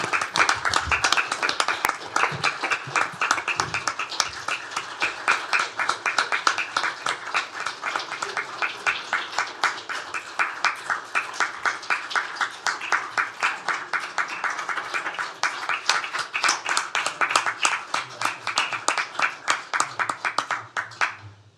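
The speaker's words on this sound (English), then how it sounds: "let's give you a round of applause" A room at a county commissioners court meeting breaks into a long round of applause, brisk rhythmic clapping from a modest crowd that holds steady for about twenty seconds before fading out.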